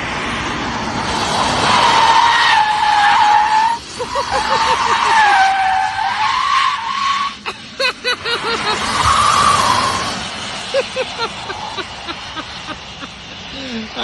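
A Tesla Model 3 Performance drifting, its tires letting out long wavering squeals over electric motor whine and road rush, with bursts of fluttering grip and voices talking in the cabin.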